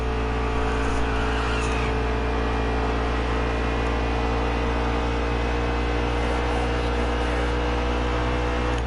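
Stock car engine in NASCAR Heat 3 at a 1.5-mile speedway, a sustained high-revving roar near 8,500 RPM, steady and continuous with slight pitch shifts and no talk over it.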